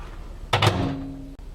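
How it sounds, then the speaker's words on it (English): A microwave door shuts with a single close thud and a short rattle after a dish is put inside, followed by a brief low hum and a faint click. "take our mix and put it into the microwave"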